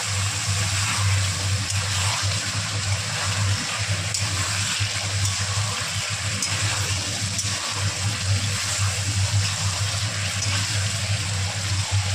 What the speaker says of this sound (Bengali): ভালোভাবে কড়াইতে কষার পর আমি অল্প অল্প জল দিয়ে আবারও ভালোভাবে কষতে থাকবো।